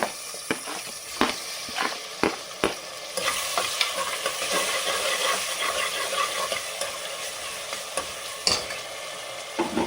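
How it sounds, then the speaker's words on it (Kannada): Tomato frying with onion in a pan for drumstick pulao, a steady close sizzle broken by sharp scraping knocks of a spoon stirring against the pan, with no speech. "ಟೊಮೊಟೊ ಒಂದು ಸ್ವಲ್ಪ ಫ್ರೈ ಆಗಬೇಕು."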